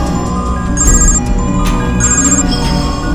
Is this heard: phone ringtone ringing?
yes